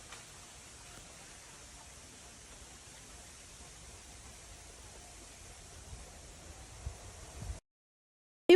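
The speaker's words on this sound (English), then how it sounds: "It was windy that day" Steady broadband wind rush blows outdoors on a windy, peaceful day, a constant hiss with a few louder low gusts near the end before the sound cuts to silence.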